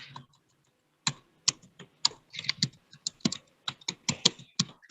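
Code comment being typed on a computer keyboard in MATLAB, heard as a short pause and then an irregular run of crisp, close key clicks with no talking.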